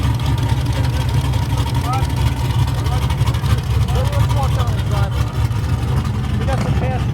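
A drag racing car engine roars loud and close, a dense, continuous low rumble with ragged revving and no pauses, other engine noise mixing in at a night drag event.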